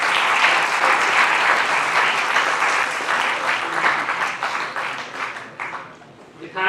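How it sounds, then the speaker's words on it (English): Conference attendees at a maritime industry event give a hearty round of applause, loud and dense at first, then gradually tapering off before a voice comes in at the very end. "Let us again give a big round of applause to Dr. M. Sekhar."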